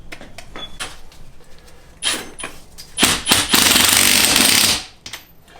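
Impact wrench tightening a 19 mm nut on a car's suspension during setup, with sharp hammering bursts near 2 and 3 seconds, then a loud sustained rattling run of about two seconds that stops abruptly.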